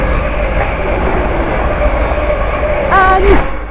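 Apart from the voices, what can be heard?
Class 350 passenger train passing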